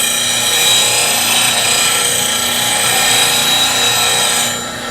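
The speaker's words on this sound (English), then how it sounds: "So this is me sharpening one of my gouges." A grinder sharpening a woodturning bowl gouge runs steadily as a bright, continuous whirring hiss with a faint grinding edge, holding loud for several seconds before easing slightly at the end.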